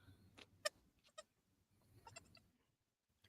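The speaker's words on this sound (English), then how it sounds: "look at that! It's a goat." A small goat bleats outdoors on a hillside, giving a few short, faint cries spread over a couple of seconds, with quiet gaps between them.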